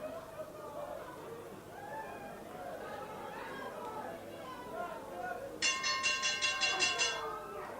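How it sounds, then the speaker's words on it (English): The ringside gong sounds to end a 1983 New Zealand professional wrestling match: a rapid string of about eight bright metallic clangs. They ring out over crowd chatter and a commentator talking. "Gong goes to the end of the match"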